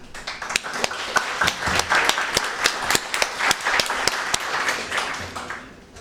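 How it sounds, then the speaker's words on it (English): A warm round of audience applause for the panelists at a press-club forum on edible insects, dense steady clapping from a seated crowd lasting about six seconds before tapering off. "So let's give a warm applause to all our panelists"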